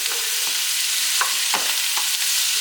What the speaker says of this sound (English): you sauteed the onions and the sausage a little bit